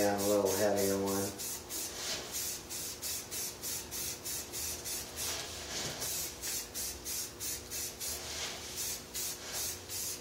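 Short repeated hissing bursts from a spray can of primer mist onto a cyclekart wheel disc in a workshop, an even rhythm of light passes up close, after a brief faint tone at the start.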